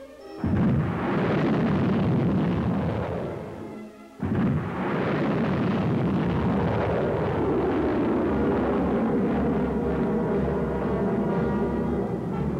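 Sergeant guided missile rounds launched at high altitude in cold weather: two long, loud rocket roars in succession, the first cutting off after about four seconds before a second sustained rumbling blast fills the rest.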